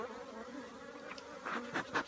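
Honeybees buzz around an open hive being inspected for a sick colony, a steady close insect drone with louder swells as individual bees pass near, no talking.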